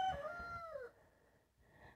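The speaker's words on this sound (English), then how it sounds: "sorry if you hear my rooster" A rooster crows once close by, a loud harmonic call that slides downward in pitch and then gives way to quiet indoor room tone.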